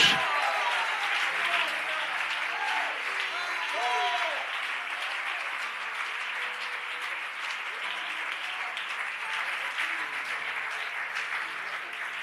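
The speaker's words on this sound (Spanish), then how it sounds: "Da un aplauso a Jesús." A church congregation applauds steadily for about twelve seconds, a broad wash of clapping that fades slightly toward the end, with some voices mixed in.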